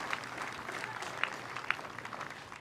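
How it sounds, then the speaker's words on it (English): An outdoor concert crowd at a US Army Jazz Ambassadors park show applauds for veterans, a soft distant wash of clapping with a few sharper individual claps standing out. "Applause for all our veterans tonight."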